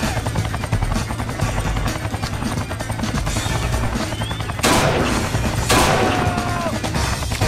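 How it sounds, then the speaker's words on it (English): A helicopter in the video game XIII, Grand Canyon level, its loud rotor chop pulsing steadily while gunfire and crashing impacts break over it. "That's a helicopter."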